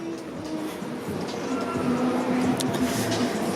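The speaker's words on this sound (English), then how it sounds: "Look, you can hear the subway." Subway train rumbling beneath Yonge Street in downtown Toronto on a busy late Friday afternoon, a steady low roar with faint tonal whine rising slightly, heard from street level amid city ambience.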